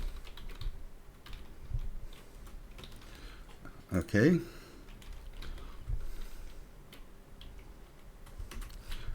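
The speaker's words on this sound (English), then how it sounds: "I'm typing a password" Computer keyboard keys tapped in a quick run while someone enters a password, a dense cluster of clicks mid-clip with a brief spoken word just before and soft ambient noise around it.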